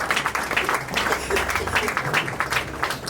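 A church congregation applauds during a mourning ceremony, with dense, steady clapping that fills the hall without pause for about three seconds.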